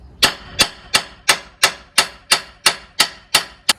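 A hammer pounds a Jeep ball joint to knock it loose: eleven sharp metallic strikes in an even, steady rhythm, each one loud and close with a quick ringing decay.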